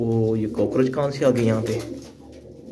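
Pigeons coo in the dark at night, soft throaty rolling calls close by, heard under someone talking.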